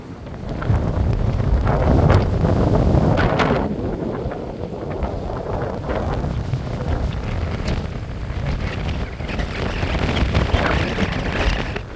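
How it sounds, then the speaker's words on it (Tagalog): Strong wind buffets the microphone in loud, rumbling gusts, with a faint wash of water and distant activity beneath. "ang lakas ng hangin dito"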